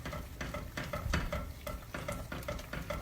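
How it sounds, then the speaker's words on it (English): Flour being stirred constantly into a sauce mixture in a pan for fettuccine Alfredo, giving a quiet rhythmic scraping with soft sizzling beneath, close and steady with no speech. "you're going to add your flour to this mixture, and you're going to stir it constantly"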